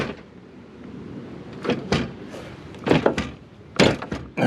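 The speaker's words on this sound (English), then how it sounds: "I didn't even shut the door all the way" A Pontiac Fiero door shut several times at close range, a string of dull thumps and clunks with small rattles between them and no talk.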